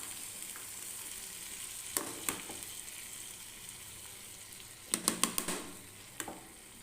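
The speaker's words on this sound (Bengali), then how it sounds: "এটা আমি এখানে একটু কষিয়ে নিচ্ছি ভালো মতন করে।" Chana paneer mixed with whisked yogurt sautés in a pan, giving a continuous close sizzle broken by sharp spatula scrapes and clacks, one cluster of strokes coming near the end.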